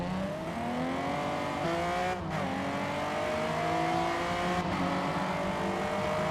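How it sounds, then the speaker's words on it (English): Rear-wheel-drive Toyota Camry TRD with a wide body in the Forza Motorsport game, its engine note rising steadily through the gears with brief dips at each shift, loud and continuous with no talking. "Rear wheel drive Toyota Camry with a wide body."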